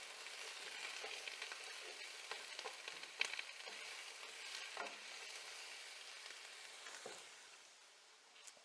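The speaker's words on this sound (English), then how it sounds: "You can hear those onions sizzling on the stove," Onions sizzle steadily in a pan on a stovetop, a continuous crackling fry with scattered sharper pops and occasional scraping as they are stirred, close and fairly quiet with no talking.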